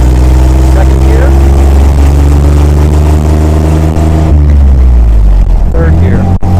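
A 1953 Willys CJ3B's engine drones loud and steady while driving in second gear, with a shift in pitch partway through and the rumble staying close throughout.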